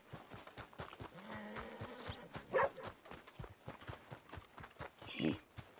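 A horse's hooves clip-clop at a steady walking rhythm as it is ridden in the video game Red Dead Redemption 2, with soft footfalls and brief game sound effects in between.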